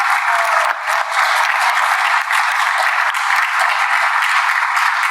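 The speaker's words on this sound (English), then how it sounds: "Ladies and gentlemen, a round of applause." Sustained audience applause fills a conference hall, dense and steady clapping from a large crowd, loud and close, continuing without a break for several seconds.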